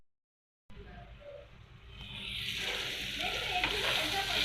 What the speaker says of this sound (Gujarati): મીઠું એડ કરીને સારી રીતે સાંતળી લેવાનું છે ડુંગળી, ટામેટું, કેપ્સિકમને હલાવતા રહીને